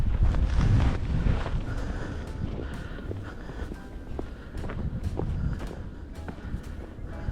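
Blustery wind in an outdoor snow storm buffets the microphone with a loud, broad rushing roar that is strongest at the start and then stays steady throughout.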